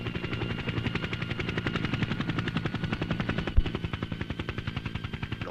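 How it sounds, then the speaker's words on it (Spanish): Helicopter rotor chopping in archival Ecuadorian film footage at a construction site in Balao, a loud steady rapid thumping that stays close throughout with one sharp knock partway. "Los versátiles helicópteros han sido fundamentales en esta trascendental obra que hoy culmina en Balao."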